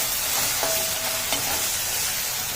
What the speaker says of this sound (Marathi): परतून घ्यायचा आहे तो कांदा.